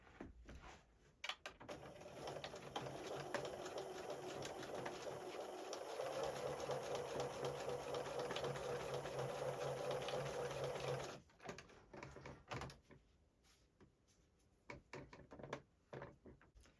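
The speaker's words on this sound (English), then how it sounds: "over to the sewing machine again" A sewing machine stitches lace for a Christmas bauble, running steadily for several seconds with a whirring, rapid stitching hum, then stops, followed by a few light handling clicks.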